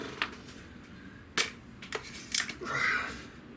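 A Benjamin Trail NP XL .25 caliber nitro-piston air rifle fires one sharp, fairly faint crack, followed by small clicks and a soft thump. A voice murmurs quietly in the background.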